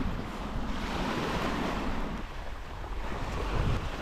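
Waves on a sand and pebble beach facing open sea, a steady loud wash of surf with gusty wind buffeting the microphone, and nobody talking.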